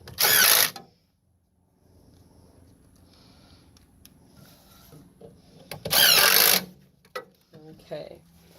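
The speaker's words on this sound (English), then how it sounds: "You're going to put those 3 screws, the 3 longer screws, back in to hold the motor to the shroud." Power driver spinning three longer screws back in to fasten the motor to the shroud of a 2020 Amana PTAC unit: two loud whirring bursts, at the start and later, with quiet handling noise between.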